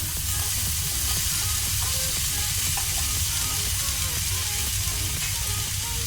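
Chopped sausage pieces fry in a hot pan, giving off a steady, dense sizzle and crackle throughout with no pauses, close and moderately loud, with faint clinks of stirring.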